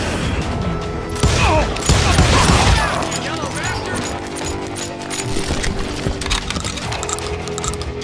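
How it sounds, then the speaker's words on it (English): Gunfire in the street in the Western video game Call of Juarez Gunslinger, bursts of rapid shots and booms with clinking shell sounds, loudest early on, then scattered firing under shouted voices and game noise. "They're shooting in the street!"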